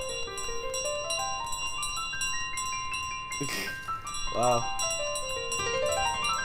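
Bell ringing in Untitled Goose Game, bright repeated chimes forming rising and falling note runs over a backdrop of game sounds, with a short exclamation from a player partway through.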